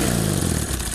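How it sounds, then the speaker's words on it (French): An old BMW flat-twin motorcycle engine runs steadily close by, a brief, even, throbbing drone with no voices. "Une vieille BM, un vieux flat BM."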